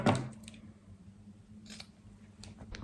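Scissors give a single sharp snip at the start as a small corner of jersey fabric is trimmed for a knicker gusset, then quiet rustling of fabric follows with a couple of faint handling clicks.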